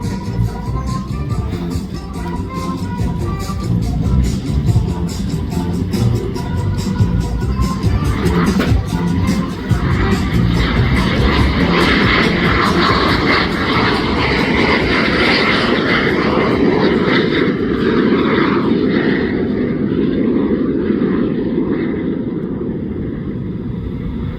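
Canadian military jets make a low pass at an airshow with gear and flaps down and smoke on, a loud, continuous roar that builds and sweeps past, with a crowd and a voice faintly underneath.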